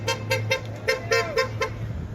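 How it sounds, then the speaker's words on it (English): Car horns from passing cars honk in short repeated toots of varying length, loud and close over steady traffic hum. "You can hear people honking in support as they pass by."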